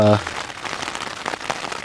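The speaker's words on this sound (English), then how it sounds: "I like the sound of rain hitting the tarp" Rain patters on a tarp shelter during a backpacking trip in Olympic National Park, a close, soft, irregular drumming after a brief thud at the start.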